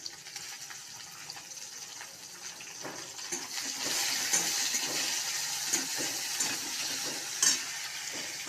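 Chopped onion and tomato sizzle in hot oil with dried chilli and bay leaf, a steady mid-level frying hiss that grows busier and louder partway through, with occasional clicks of stirring.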